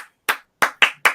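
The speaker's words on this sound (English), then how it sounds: "Clap it up." Four sharp, close hand claps ring out in an uneven rhythm, each a crisp loud smack with brief silence between, opening a casual podcast-style show.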